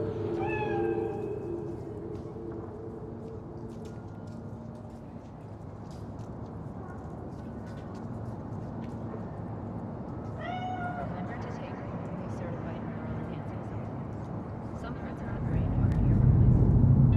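In Cyberpunk 2077, a cat meows a few times, faint to moderate, over a low ambient hum, with a deep rumble swelling toward the end.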